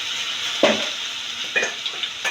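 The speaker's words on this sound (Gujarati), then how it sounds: "પછી તેમાં આપણે આદુ મરચાં અને લસણની પેસ્ટ નાખીશું" Ginger, green chili and garlic paste hits hot oil for a green pea curry, a steady sizzle punctuated by a few short spatters and the scrape of a spoon stirring in the pan.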